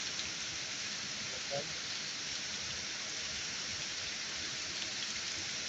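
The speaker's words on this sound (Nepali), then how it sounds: "ल म चाहिँ यहाँ पानी थाप्न थालेँ, पानी भर्दैछु एकछिन।" Steady broadband rush of running water, like a tap filling a container, continuous and fairly close throughout.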